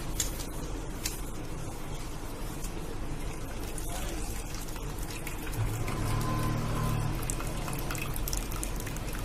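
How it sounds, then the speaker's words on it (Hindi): Water trickles and splashes steadily as it is squeezed out of the curdled milk for making roso gola, a continuous close liquid patter with a slightly heavier burst of dripping partway through. "इसका पानी निकाल देंगे निचोड़ के"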